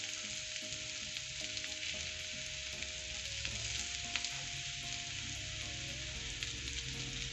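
Lyonnaise potatoes sizzle steadily in a frying pan as they are mixed with their flavourings, a constant close frying hiss broken by occasional stirring taps, with faint music underneath.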